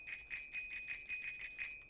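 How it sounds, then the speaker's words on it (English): Bicycle bell in Untitled Goose Game rung in a quick series of about nine bright, evenly spaced dings, clear and close with no talk over it. "Oh, you rang the bell."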